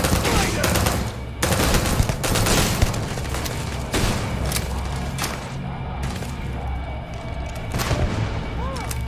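Gunfire in the Starfield game comes in loud, repeated bursts of shots, some in rapid machine-gun-like strings and others as heavy single booms, spread across several seconds with brief pauses between volleys.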